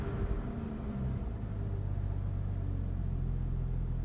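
A Jeep Grand Cherokee 4L engine with a misfire, held under throttle, gives a loud, steady low rumble that drones on without a break and with no voices over it.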